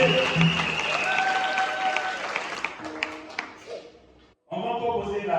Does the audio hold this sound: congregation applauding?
yes